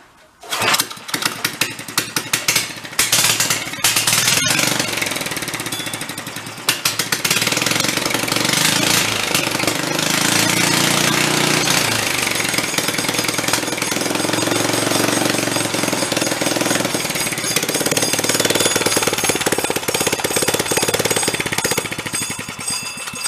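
Half-scale Manx dune buggy engine started and revved hard, a loud buzzy small-engine roar that rises and falls through repeated throttle blips, close by and continuous.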